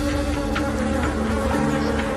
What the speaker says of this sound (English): Listen to the amount of bees in there.